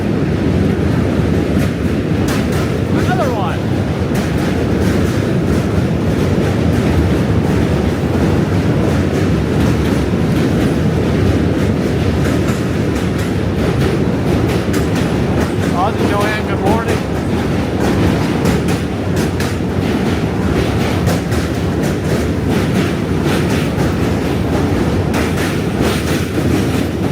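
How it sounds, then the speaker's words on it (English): A train rumbles past on Manhattan tracks during a morning walk, with loud continuous clatter and rolling wheel noise through the whole stretch, a few brief squeals, and street voices mixed in underneath. "I hear another train."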